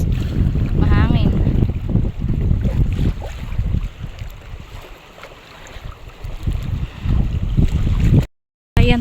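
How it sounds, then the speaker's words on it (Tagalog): Strong wind buffets the microphone outdoors on a hot day, a steady low roar with gusts swelling and easing before a brief cut to silence. "Oops. Mahangin."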